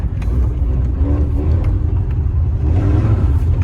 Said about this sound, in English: I'm literally ripping gravel up each time I hit that throttle.